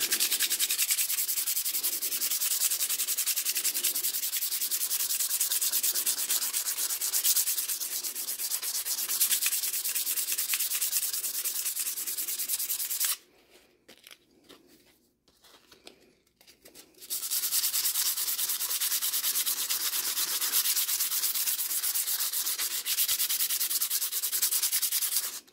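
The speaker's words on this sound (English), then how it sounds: "So I just want to hit this with sandpaper real quick and smooth it out a little bit." Sandpaper rubs steadily over the rivets of an orange Jorgensen hand plane in long continuous rasping strokes, close and loud, pausing briefly midway before resuming.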